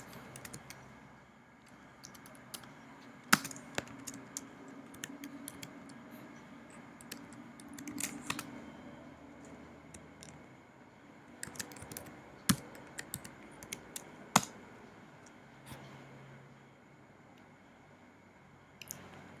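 Fingers type on a computer keyboard in quiet, uneven bursts of close, crisp key clicks with scattered louder taps and short pauses, and no talking.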